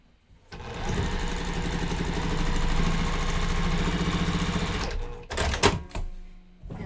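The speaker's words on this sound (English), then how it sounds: "I'm gonna go ahead and sew this down" Sewing machine stitching down a quilt block fabric piece, a steady close whirring run of about four seconds with rapid needle chatter, then stopping with a few clicks and handling noises.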